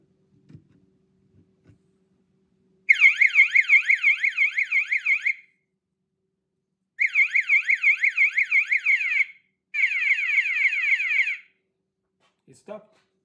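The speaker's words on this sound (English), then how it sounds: "I'm going to connect an alarm, okay?" An electronic alarm wired to a DIY photo-resistor circuit wails in three loud bursts of rapidly warbling siren tone, each a few seconds long with short gaps, preceded by faint handling clicks.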